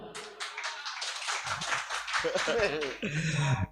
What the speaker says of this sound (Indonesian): tepuk tangan dulu atuh